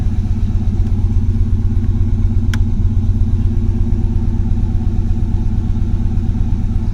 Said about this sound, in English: Without accelerating, it's idling at 850 plus or minus.